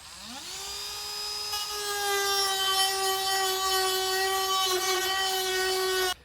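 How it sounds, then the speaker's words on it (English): A Dremel rotary tool files down sharp metal edges on trimmed fascia while a base plate kit is fitted to a 2019 vehicle, a loud steady high whine that spins up, holds for several seconds and cuts off abruptly. "Just going to use a Dremel tool, just go back and kind of, again, just file down those edges so they're not as sharp."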